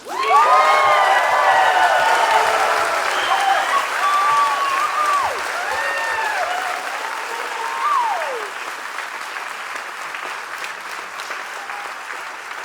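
Loud applause and cheering from a large crowd of new citizens at a naturalization ceremony in Campbell, California, with whoops and shouts rising over steady clapping that gradually thins out.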